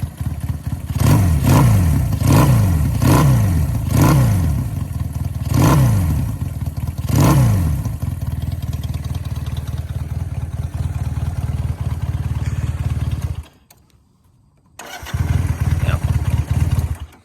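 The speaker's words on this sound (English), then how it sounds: "these are aftermarket silencers, so it kind of has that British bike sound" A 1969 Honda CB175 motorcycle engine with aftermarket silencers revs in several short bursts, then settles into a deep, throaty idle, cutting out briefly before rumbling again.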